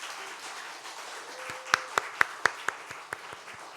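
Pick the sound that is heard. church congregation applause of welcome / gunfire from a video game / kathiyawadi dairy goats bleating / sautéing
church congregation applause of welcome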